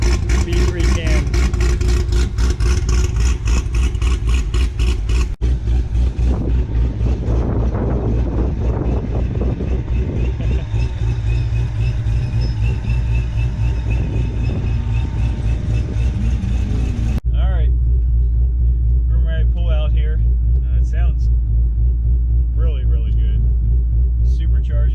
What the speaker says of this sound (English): Supercharger, you can hear it.